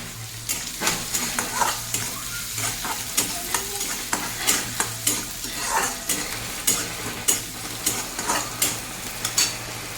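Onion frying in hot oil in a pan for masala Maggi noodles, a steady close sizzle broken by repeated sharp scrapes and stirring strokes of a spoon at an even rhythm, with a low hum running underneath.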